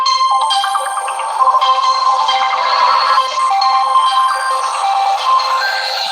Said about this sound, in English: Now Virginia's calling me